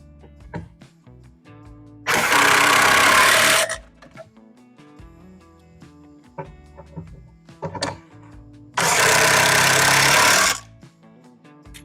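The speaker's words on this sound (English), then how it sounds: "then we can pop in the 2 pocket screws from this side" A drill drives pocket screws into wood for an outdoor build, two loud, sustained whirring bursts of about two seconds each, separated by quieter clatter and tapping of handling.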